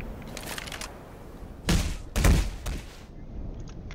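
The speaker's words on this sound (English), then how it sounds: "More RPG rockets." Explosive bursts from RPG rockets in the game Garry's Mod: two loud, heavy booms close together near the middle, with a smaller crack after them, set against quieter background noise.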